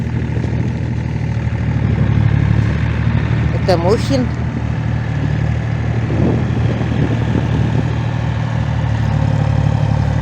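A mini-tractor engine runs steadily while plowing village land, a continuous low drone throughout with someone speaking briefly over it.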